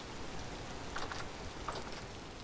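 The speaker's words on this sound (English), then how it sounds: "You can kind of barely hear the rain." Rain ambience in the Vintage Story video game: a faint, steady hiss of falling rain, with a few soft, scattered drip-like ticks and no talking.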